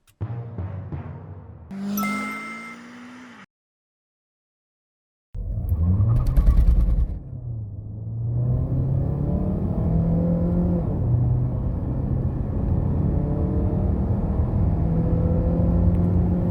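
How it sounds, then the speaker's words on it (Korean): A Hyundai Grandeur 2.4 hybrid sedan accelerates hard from a standstill during a 0-100 km/h run, its engine note climbing steadily and loud inside the cabin after a short burst of quieter sounds and a silent gap. "하이브리드로 제로백을 찍어봤는데 스포츠카로 바꾸고 싶어졌어"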